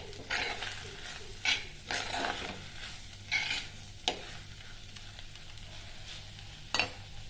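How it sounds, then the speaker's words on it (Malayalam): Clam meat and onions fry in a pan, with a soft continuous sizzle under repeated scraping stirs of a spoon and a few sharper knocks against the pan. "ഇങ്ങനെ നമ്മുടെ പാടിയ ഉള്ളിലേക്ക് കക്ക ഇറച്ചി ഇട്ട് കൊടുത്ത് ചതച്ച് വെച്ച് അരപ്പ് ഇട്ട് കൊടുത്ത് നല്ലതുപോലെ ഇളക്കി കൊടുക്കാം."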